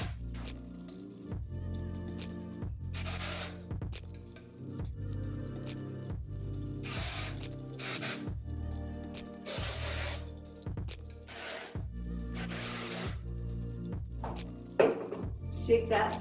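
Hair product is sprayed onto sections of the scalp in a series of short, sharp hissing bursts, separated by pauses and soft handling noises, while a person talks throughout.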